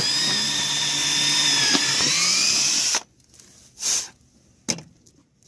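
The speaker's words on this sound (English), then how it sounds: "Going to drill the first hole in the center here." A loud whining drill with a 9/64 bit spins steadily into wood and shifts pitch, then stops, followed by a few short bursts and clicks.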